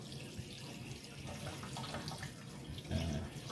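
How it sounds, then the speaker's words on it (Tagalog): Water runs into a plastic ice tray in a soft, continuous trickle, faint and steady, with a slightly heavier splash near the end. "Anak mo magsulod og tubig sa ice tray."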